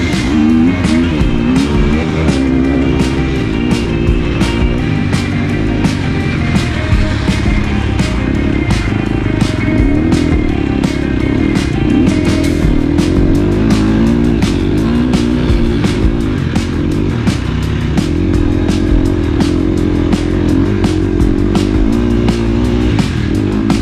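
Motocross motorcycles race on a dirt track, their engines revving and droning loudly and continuously, with the pitch rising and falling as the riders shift and accelerate.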